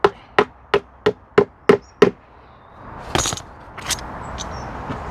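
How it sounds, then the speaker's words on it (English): A hammer straightens old pallet nails in a garden with seven sharp, evenly spaced metallic knocks close by. Rustling and handling noises follow, and there is no speech. "So I'm just using the nails from the pallets, straighten them out."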